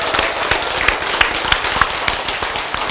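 A lecture audience bursts into loud, dense applause. Many hands clap rapidly and continuously from start to finish with no pauses, close and filling the room.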